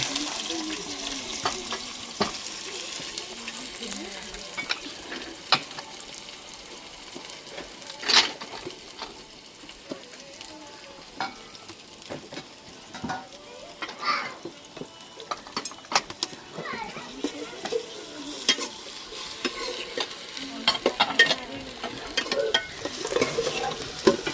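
Green onions cook in a pan at home with a soft ongoing sizzle, while a utensil stirs and knocks against the pan in scattered, fairly close clinks.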